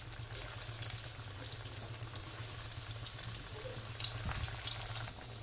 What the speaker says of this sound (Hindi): अब हमें लो टू मीडियम फ्लेम पे इनको फ्राई कर लेना है